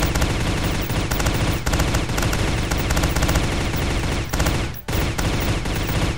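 Rapid, continuous gunfire from shooting in the video game 3D Aim Trainer, loud and dense throughout with one brief break near the end, no talking.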